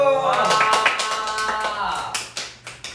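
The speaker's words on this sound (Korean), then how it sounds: "박수!" A small group of idol members claps during a Children's Day livestream, a handful of sharp, close claps over music and overlapping talk, growing sparser toward the end.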